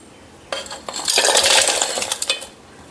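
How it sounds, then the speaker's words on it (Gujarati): Jaggery drops into a metal mixer bowl, a sudden clattering rattle of hard lumps striking and settling for about two seconds, close and fairly loud, with no talking. "તો ગોળને આપણે એક મિક્સર બાઉલમાં આ રીતે લઈ લઈશું"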